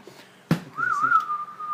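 A sharp knock, then a clear, steady whistled melody with a wavering, sliding tone, close and fairly loud.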